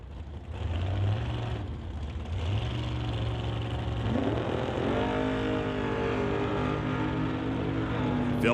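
A dragster's engine roars at a drag racing event, a steady loud drone that rises in pitch as it accelerates, heard under a commentator's running talk.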